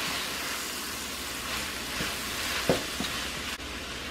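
Cuban picadillo sizzling in a pan while being stirred, a steady frying hiss with a few soft scraping knocks from the spoon, close and alone with no talk.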